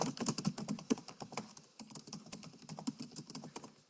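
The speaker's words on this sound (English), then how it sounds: "simply type in your message over here" Rapid typing on a computer keyboard while a message is entered, a close, steady patter of light key clicks with small irregular pauses, running throughout.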